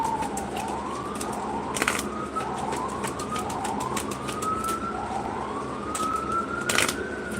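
A siren wails in repeated rising sweeps, steady and moderately loud, with brief sharp bursts of noise around it and a faint bird call.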